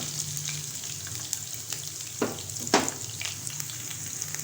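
Chopped green chillies fry in hot oil for sarson ka saag: a continuous crackling sizzle with occasional sharper pops and spoon clicks, close and fairly loud.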